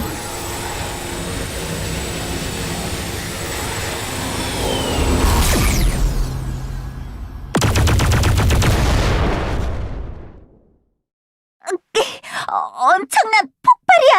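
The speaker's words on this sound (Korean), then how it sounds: "엄청난 폭발이야." A huge explosion in the Elsword video game: a long, loud, dense roar with a sharp blast partway through, then fading rumble and silence before a character voice speaks.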